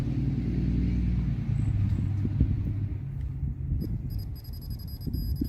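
Cars pass on a country road by the Aurora alien grave site, giving a continuous low rumble of engines and tires that stays fairly close and even, with no voices over it.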